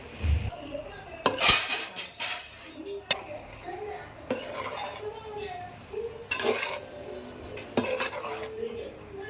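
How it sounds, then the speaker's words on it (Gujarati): A spoon scrapes and clanks repeatedly against a metal pan as about a kilo of Chinese-style pasta with soy sauce is stirred, with sharp knocks at irregular intervals. "આપણા પાસ્તા ચલાવી લઈશું"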